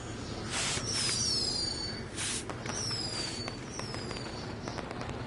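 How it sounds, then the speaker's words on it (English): Fireworks going off in the WWE 2K20 video game: whistling rockets rise and burst in several bright cracks and crackles over a constant low background rumble. "we'll get to see some cool fireworks"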